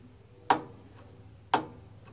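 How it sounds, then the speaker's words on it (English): Two sharp mechanical clicks of a starter solenoid on a John Deere STX30 lawn tractor with a Kohler 12HP Command engine, about a second apart, each followed by a faint softer tick, close and isolated in quiet. "I hear a click."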